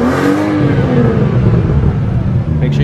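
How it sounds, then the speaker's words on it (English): A BMW M235i engine revs loudly up close after a cold start, a sustained throaty roar that holds for a few seconds, with voices faintly underneath. "I missed the cold start. Make sure you get this one first. Of the M235i."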